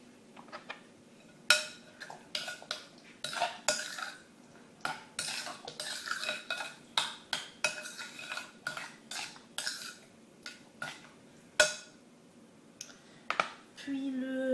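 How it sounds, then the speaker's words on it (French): A utensil scrapes and clinks against a bowl while stirring a chicken skewer marinade with lemon, a quick irregular series of close, sharp taps and scrapes over quiet background. "Et on remélange"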